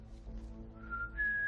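A person whistles to imitate a space flute, starting as a faint wavering tone and rising into a steady, piercing held note, heard close and alone over low background hum.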